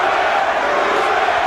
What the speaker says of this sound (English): Crowd enjoying this one.